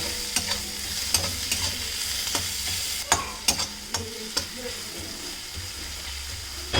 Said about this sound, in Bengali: টমেটোটাকে একটু হালকা করে ভেজে নিতে হবে মশলার সাথে